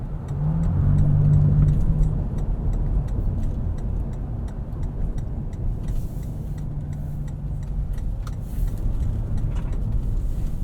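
A 2020 Toyota 4Runner Venture with a 5-speed automatic drives a mountain road, its engine a steady, close, continuous drone with a brief louder push near the start and faint ticking on top.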